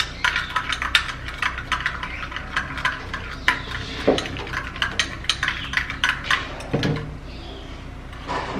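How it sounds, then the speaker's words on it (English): A homemade skin-care mixture stirred in a bowl, with repeated light scraping and clinking taps of a utensil against the container, close and steady with no talk. "And then we'll give it a little stir, just like this."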